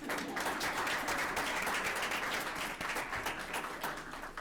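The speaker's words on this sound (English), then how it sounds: "If you'll go shake hands, we'll applaud you." Audience applauding at a Board of Education meeting as an honoree goes up to shake hands, steady dense clapping filling the room for the whole stretch, with no voices over it.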